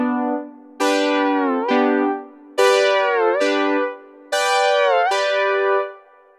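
Synthesizer filtered pad from a keyboard solo, played as sustained bright chords that slide downward in pitch, in four overlapping phrases with sharp attacks and long held tails, loud and with no voice.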